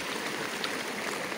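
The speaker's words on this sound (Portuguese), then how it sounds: "Aí tá vindo a água toda pra cá." Floodwater from a burst pond rushes through a farm field after heavy overnight rain, a steady, broad watery roar with no voices.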